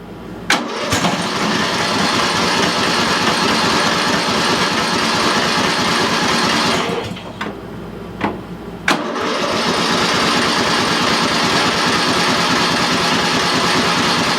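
A Murray lawn mower engine with a small electrical fault cranks and starts, running loud and steady, then sputters and briefly dips before catching again and continuing at a strong idle.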